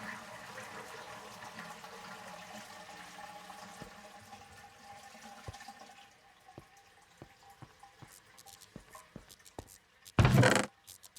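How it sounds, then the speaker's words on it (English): A toilet flush in a Minecraft horror map, heard as a soft running-water wash that fades into scattered drips and taps, followed by a short loud burst of water near the end. "I flushed the toilet."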